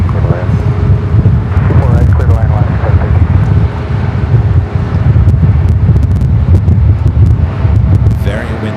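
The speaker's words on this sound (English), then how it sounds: "Very windy." Strong wind buffets the microphone at a plane-spotting spot by LAX, a loud, steady low roar mixed with the hum of distant aircraft. Someone talks over it throughout.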